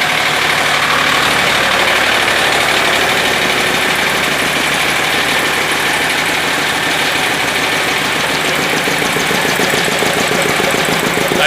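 A tractor engine drives an air compressor for sandblasting, running at high revs with a loud, steady, dense roar that holds constant throughout, close by with no talking.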